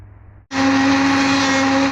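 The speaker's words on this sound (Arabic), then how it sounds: "ضربنا السلق والكزبره في الخلاط" A kitchen blender whirs loud and steady for about a second and a half, blending chard, green coriander and dill with half a cup of broth, starting abruptly after a brief quiet lead-in.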